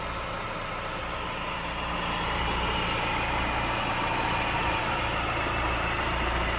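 A 2002 Chrysler PT Cruiser Dream Cruiser Series 1 idles smoothly and steadily with a low, even engine hum. It is heard close up and alone, with no voices.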